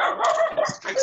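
A dog barks and yips in short close bursts, mixed with a voice talking over a call.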